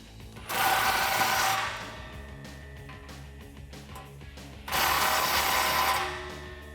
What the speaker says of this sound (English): With our bolts threaded in, go ahead and tighten these down with a 16mm socket.